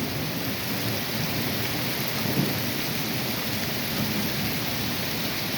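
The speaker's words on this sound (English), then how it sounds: "You can hear the thunder." Thunder rumbles low beneath steady heavy rain during a July rainstorm in Loysville, Pennsylvania, with water pooling on the road; the downpour hisses continuously and the thunder swells briefly, with no talking.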